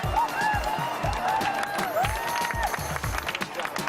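Scattered clapping and crowd cheering fill a large arena at the Eurovision 2012 voting, where the Greek delegation applauds, with individual claps standing out over a broad crowd murmur while a commentator talks over it.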